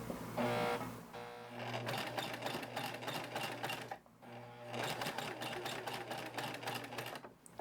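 A domestic sewing machine backstitching over fabric while reinforcing a pad holder, two bursts of rapid even needle stitching separated by a short pause, close and clear with a steady motor hum.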